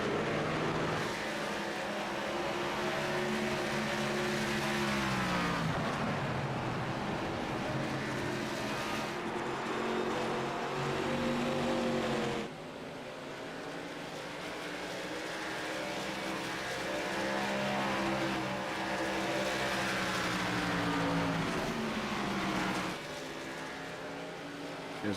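ARCA race cars lap the Milwaukee oval, their engines rising and falling in pitch as they pass, loud and steady, with repeated waves of sweeping engine tone and no talking.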